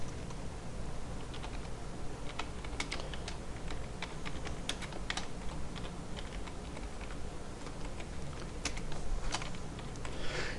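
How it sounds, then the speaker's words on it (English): Steady typing on a computer keyboard while working in Microsoft Word, a dense patter of quiet, close key clicks running continuously with no talking. "So here I'm going to type"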